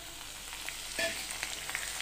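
Curry leaves sautéing lightly in oil make a soft, steady sizzle with faint crackles and a brief clink of a utensil midway, quiet and close.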